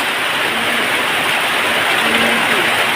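Heavy downpour on a farm, a dense, steady hiss of rain filling the whole stretch with a faint low hum underneath.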